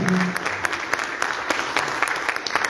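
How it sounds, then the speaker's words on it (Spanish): An auditorium audience applauds in memory of a professor, steady sustained clapping from a crowd throughout the short stretch. "Un aplauso a la memoria de este maravilloso hombre"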